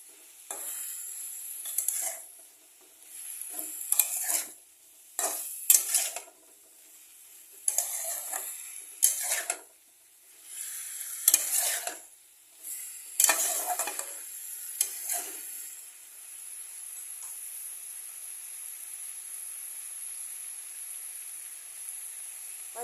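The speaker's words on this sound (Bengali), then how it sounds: "টমেটোটা সম্পূর্ণভাবে মিশিয়ে নেবে কয়েক" Tomato being stirred into frying vegetables for a Bengali mixed-vegetable chorchori, with bursts of spatula scraping against the pan over a soft, steady sizzle that carries on alone near the end.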